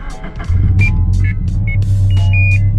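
A Toyota 86 sets off on a drive, heard from inside the cabin. A low engine rumble swells and holds steady as the car gets going, while several short electronic chimes and beeps sound over it.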